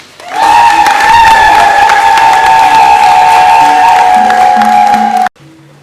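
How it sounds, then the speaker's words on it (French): Guests at a mixed Belgian-Cameroonian religious wedding in Ma'an village break into loud applause and cheering, with a strong sustained high-pitched tone riding over the clapping until it cuts off abruptly near the end. "Applaudissons pour lui."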